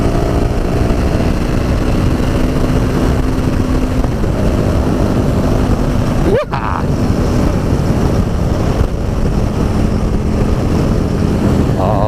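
KTM 1290 Super Duke R motorcycle, 2017 model, ridden on an open road, its engine a steady close-up drone with continuous wind rush, and a brief sharp gust or passing swoosh about halfway through.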